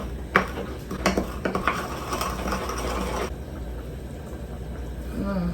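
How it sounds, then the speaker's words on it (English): A spoon scrapes and knocks around a pot of vegan Jamaican Ital stew with coconut and plantain in quick clattering strokes, then settles into a steady low hum of the simmering pot. "Give it a good stir."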